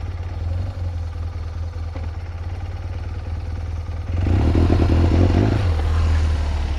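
A motorcycle fitted with a Jetprime Memjet fuel tuning module idles with a steady low rumble, then pulls away from idle as the engine note swells louder and rougher, carrying on close and continuous without any talk.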